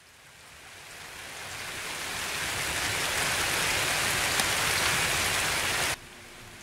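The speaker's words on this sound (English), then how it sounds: "Of course, it is super raining" Heavy rain in the shooter game Escape from Tarkov, a loud steady hiss of downpour that builds up and then drops sharply to a quieter level near the end.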